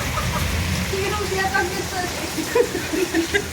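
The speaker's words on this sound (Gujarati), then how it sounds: "આ જો વરસાદ જુઓ ખાલી તમે, ખતરનાક વરસાદ પડી ગયો." Heavy nighttime rain during a storm pours down as a steady, dense hiss throughout, with people talking over it.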